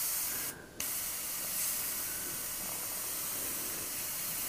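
Continuous close hiss of an airbrush spraying paint, steady and broadband, with one brief drop near the start before the spray resumes at full strength.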